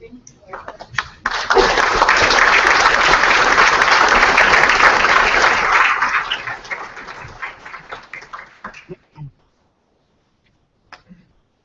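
Audience applause at a Latino coder summit morning session swells after a brief pause, holds steady for about five seconds, then fades into scattered claps and near silence, with a voice speaking before it.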